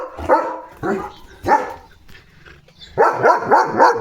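A German Shepherd barks loudly and close by, with three separate barks, a short lull, then a rapid run of four barks in quick succession.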